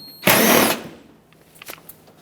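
A powered driver with a 5.5mm socket spins out a fender liner screw on a Ford Excursion, one short loud whir lasting about half a second, followed by faint clicks and handling noises.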